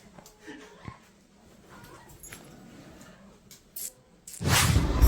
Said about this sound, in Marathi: ह्यांचा कुत्रा आहे तो.